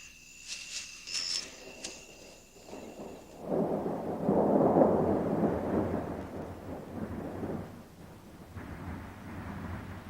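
Rain and rolling thunder of a tropical storm in the Belize forest after a dry season, with insects chirping early before a long, loud, swelling rumble and steady downpour that continues and fades somewhat.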